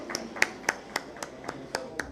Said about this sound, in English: A big round of applause once again, ladies and gentlemen.